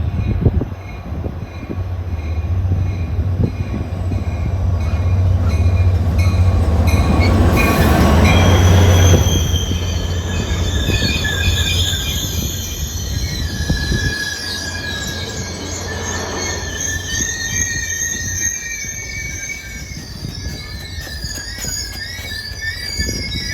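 A Caltrain local passenger train bound for San Jose passes close to the trackside, a loud rumbling roar with wheels squealing high over the rails, then easing as the cars roll by.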